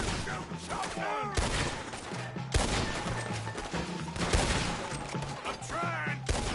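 A chaotic shootout in Red Dead Redemption 2, with rapid overlapping gunshots and volleys cracking close and loud, heavy bursts punctuating continuous firing, while voices shout in the middle of the fight.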